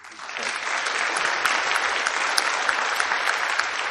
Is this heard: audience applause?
yes